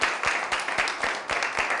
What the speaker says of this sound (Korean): 다시 두 손 박수